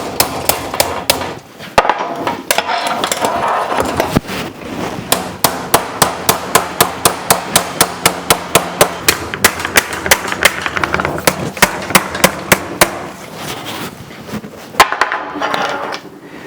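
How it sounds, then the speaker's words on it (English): A low crown plastic hammer strikes a sheet metal edge in a long, steady run of sharp, loud, evenly spaced blows, close up and nearly continuous, with a few short pauses. "Use a low crown plastic hammer for the outside part."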